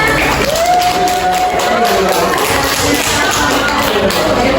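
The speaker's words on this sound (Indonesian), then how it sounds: "Tepuk tangan semuanya." A classroom full of people claps loudly and steadily, with some cheering mixed into the continuous applause.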